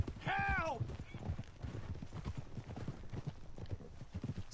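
Horse hooves clip-clop steadily in a Red Dead Redemption 2 game scene, a run of close, regular beats that carries through the whole stretch, opened by a brief horse whinny.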